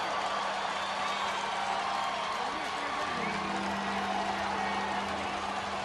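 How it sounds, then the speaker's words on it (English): Jacksonville State home crowd roaring at a 2010 college football game against Wofford, a dense steady wash of cheering that stays loud throughout, with a commentator's voice running over it. "we hear this crowd of Jacksonville State making the noise"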